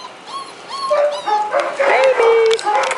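Five-week-old puppies whimper and yip close by in a high, wavering chorus of short cries and squeals, while someone talks softly over them.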